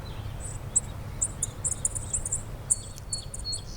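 A small baby bird chirps in a garden hedge, a string of thin, high, quick peeps repeating irregularly and fairly close over a low outdoor rumble.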